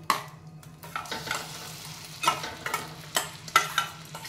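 Egg mixture with onion, green chilli, salt, chilli powder and turmeric sizzling in butter in a pan, a steady soft fry punctuated by several sharp scraping and stirring clicks, close and fairly quiet, with no talking.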